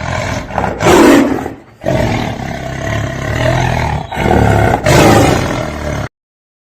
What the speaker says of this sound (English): T is for tiger.